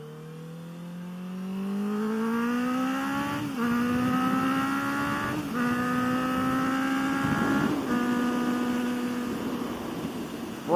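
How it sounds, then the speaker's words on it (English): A loud Honda CB650FA motorcycle engine revs up in long rising sweeps with brief drops between gear changes, a strong harmonic exhaust tone close by, with little exhaust pops. "The little pops that that exhaust makes"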